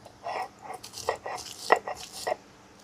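Spice mix for a sweet-sour raw mango ring pickle is coarsely crushed by hand, a run of uneven knocks, grinds and scrapes, close and fairly loud, clustered in short bursts.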